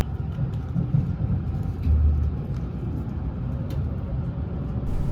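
Inside a Ltd. Exp Shirasagi train departing Kanazawa Station, a low steady rumble of the moving carriage rolls on with faint occasional clicks and a soft swell midway.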